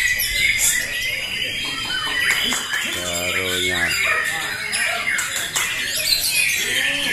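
Oriental magpie-robins (murai batu) sing competitively at a bird contest in Cikeas, rapid shrill phrases overlapping continuously, with a crowing fowl-like call midway and voices in the crowd.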